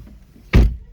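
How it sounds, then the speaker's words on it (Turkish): A single sharp, loud mechanical clunk of a 2014 Volkswagen Jetta Highline's door opening, brief and close, with quiet background before and after. "Kapıyı açtık"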